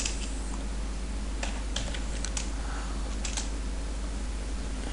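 Computer keyboard typing, irregular bursts of light clicking keystrokes at close range over a steady low hum, with no voices.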